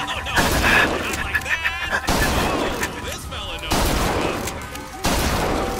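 Rapid bursts of gunfire from BioShock Infinite, loud and close, come in several dense volleys with short gaps between them.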